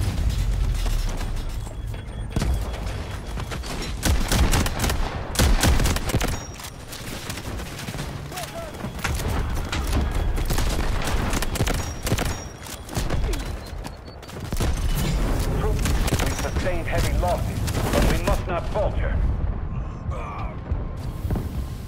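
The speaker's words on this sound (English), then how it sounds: "Artillery ready for barrage." Heavy artillery barrage in the video game Delta Force Hawk Ops, a dense run of loud booming blasts and rapid gunfire rolling on without pause, with a voice speaking over the battle.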